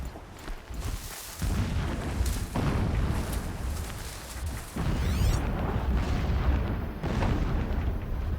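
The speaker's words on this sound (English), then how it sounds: "explosions in the distance. Pay that no mind." Booming distant explosions roll through the game world of Horizon Zero Dawn, several heavy rumbling blasts spread across the stretch, alone with no voices.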